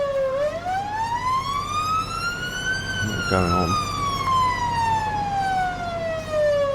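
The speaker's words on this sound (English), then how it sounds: "Some ambulance thing just gone up there." A video-game ambulance siren sweeps up and down in pitch as it passes in Farming Simulator 22, loud and continuous, with a brief rapid warble in the middle and a voice speaking over it.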